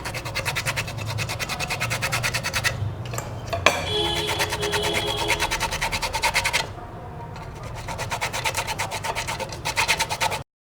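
Limes are zested against a grater with fast, rhythmic rasping strokes, loud and close, with a brief pause in the middle, while preparing a lamb chilli roast.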